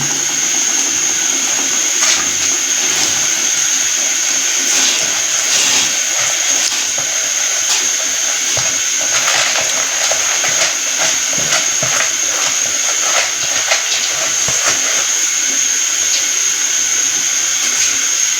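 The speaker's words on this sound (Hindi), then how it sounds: "तो अभी हम इसमें चावल ऐड करते हैं जो हमने पहले ही धो के रख दिए थे।" Washed rice goes into boiling beef broth for degi yakhni pulao, a continuous bubbling, hissing simmer with scattered pattering splashes and crackles, close and fairly loud, no talking.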